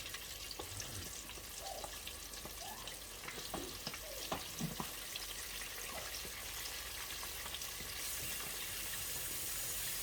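Chicken wings deep frying in a deep fryer, a steady faint sizzle and bubbling hiss that goes on throughout with a few small crackles and pops, with no talking.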